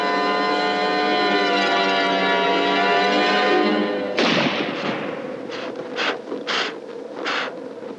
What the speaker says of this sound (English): we'll try a long shot with the plastic slug.